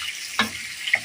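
Cumin seeds frying in oil in a pan as potato slices are cooked, a steady bright sizzle broken by two brief stirring scrapes, close and without voices.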